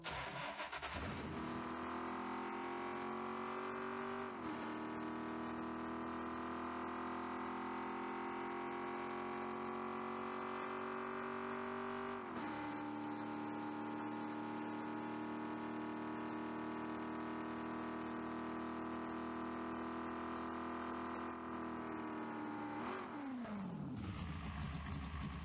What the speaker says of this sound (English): Here's a full demo of the engine audio.